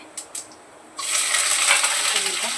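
Cumin, garlic and curry leaves hit hot oil and burst into a loud, steady sizzle after a couple of faint clinks, continuing close and bright.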